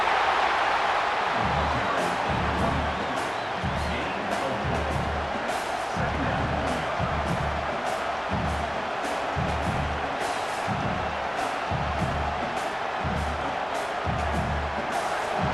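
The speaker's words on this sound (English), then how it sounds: "Listen to this crowd just shaking the girders of this place" A large college football stadium crowd roars steadily in the background while a voice talks over it.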